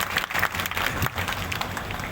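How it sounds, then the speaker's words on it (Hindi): Audience applause after a lecture, a steady wash of many hands clapping together that fills the whole stretch at an even loudness with no voices on top. "मैडम ने जो व्याख्यान दिया अपना, उसके लिए तालियां बजा दें जोरदार"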